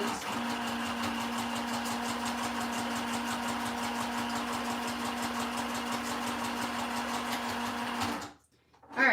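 A sewing machine stitching steadily at a fast, even rhythm with a constant motor hum, close and moderately loud for about eight seconds before stopping abruptly.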